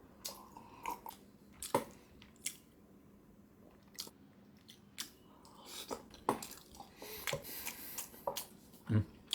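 Someone chewing a braised soft-boiled egg at close range, soft wet squishes and smacking bites coming in irregular bursts with quiet pauses between, faint and intimate.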